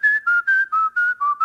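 A person whistles with the tongue and no lips, giving a clear, loud, close run of six or seven short, evenly spaced notes with a slightly wavering pitch, alone and without talk.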